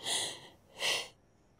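Two short airy sniffles, a brief pause between them, close and fairly soft, then quiet.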